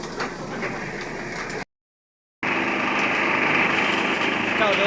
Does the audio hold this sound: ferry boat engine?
yes